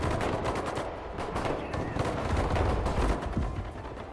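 Dense rapid gunfire and machine-gun bursts crackle continuously in a Sudden Strike 5 World War II strategy battle, loud and steady throughout with layered shots and no clear gaps.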